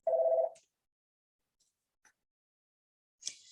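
An NEC DTK 24D desk phone sounds a short electronic ring tone, close and clear, then falls into near silence broken by faint clicks and a brief handling noise.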